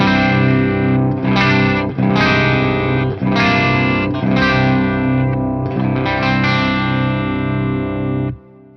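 An electric guitar with an unsplit Seymour Duncan Jupiter Rails bridge pickup plays a sequence of strummed chords with a chorus effect, each chord ringing before the next, ending abruptly.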